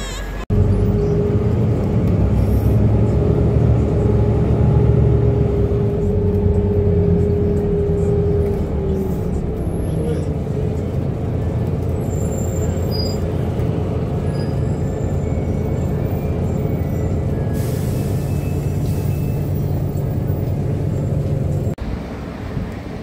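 Ride aboard a London Big Bus sightseeing bus, with a continuous low engine rumble and road noise throughout, a hiss-like brake release, and people talking faintly under it.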